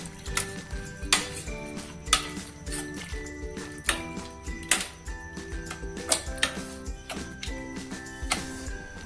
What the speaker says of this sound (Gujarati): હવે આપણે એને એકદમ મેશ કરી દેશું